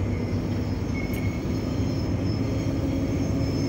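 Loaded cargo train hauling containers rolls steadily past, a continuous heavy rumble with clanking wagon noise and a faint high squeal, close and unbroken throughout, no talking.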